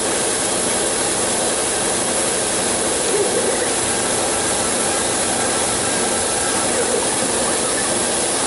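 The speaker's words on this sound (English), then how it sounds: "There's the compressor running again." A workshop air compressor runs steadily and loudly throughout, a constant broadband roar and hiss with no breaks or change in pitch.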